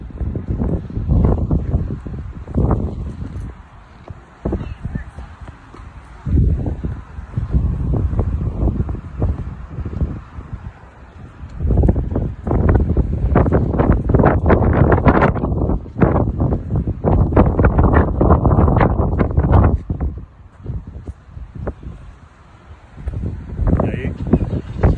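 Gusty wind blows outdoors in Colorado, buffeting the microphone in strong rumbling bursts that rise and fall over the whole stretch, with someone speaking Spanish over it.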